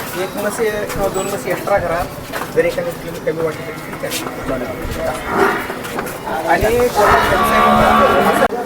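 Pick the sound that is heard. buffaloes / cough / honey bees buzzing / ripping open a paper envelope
buffaloes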